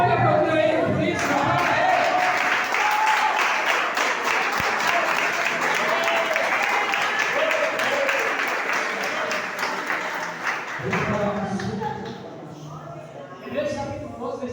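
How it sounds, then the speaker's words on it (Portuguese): A church congregation at a youth service applauds in a loud, sustained burst lasting over ten seconds, fading somewhat toward the end before a brief rise. "Você pode aplaudir ele por isso"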